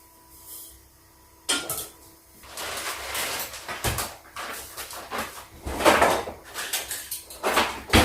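Close kitchen clatter as a pot is set on the stove and sugar is added, with knocks and scrapes of cookware and a granular rustle in irregular bursts.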